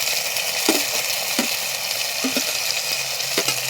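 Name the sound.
chopped tomatoes frying with shallots in a pan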